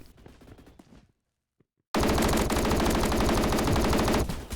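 Rapid automatic fire from an Uzi in a shooter video game, a sustained loud burst of tightly packed shots lasting a few seconds, following a brief quieter stretch and a pause of near silence.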